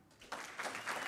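A faint, distant patter of many hands clapping rises after a quiet start, as a celebration audience applauds newly named Physicians Executive MBA graduates.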